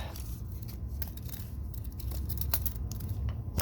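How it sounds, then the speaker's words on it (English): A tape measure being locked in a workshop during fabrication of an intercooler mount, a few faint mechanical clicks and scrapes over a steady background hum, with no voices. "let me get this tape measure locked"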